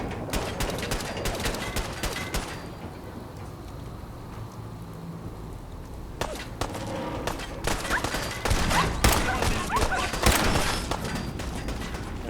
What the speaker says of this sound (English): Getting shot from above, so we got to be careful. They're shooting through the right there.